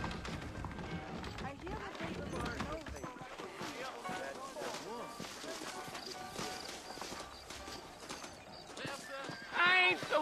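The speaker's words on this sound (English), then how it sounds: "I got the horses saddled up and ready out front" Horse hooves clatter at a steady canter beneath game music and ambient effects in the western video game Red Dead Redemption, with a brief louder burst near the end.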